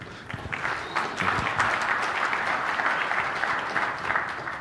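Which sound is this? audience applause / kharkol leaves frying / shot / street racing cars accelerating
audience applause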